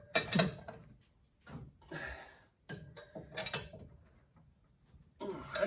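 Lug nuts being tightened by hand on the wheel of a 1929 Ford Model A mail truck, a few bursts of metallic ratcheting and clanking separated by short pauses, close and moderately loud.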